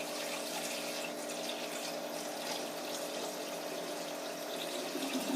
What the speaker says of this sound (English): I'm going to pour the water into this.